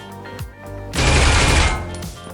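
Bursts of automatic gunfire punched through a wall in the Critical Ops game on the Bureau map, a loud dense volley of about a second following a few softer thuds.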